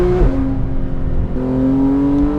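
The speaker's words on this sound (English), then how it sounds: "just revving it out" A 991.1 Porsche 911 GT3 engine revs hard while the car travels at 45 to 50 mph, its rising tone dipping at an upshift and then climbing again, loud and close from inside the cabin.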